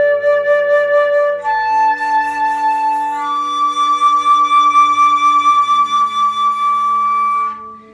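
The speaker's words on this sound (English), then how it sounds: "I'm going to overblow this low D 4 times." A flute held on a low D fingering is overblown upward four times, each step jumping to a higher harmonic; sustained pure tones sound close and alone, with no talking.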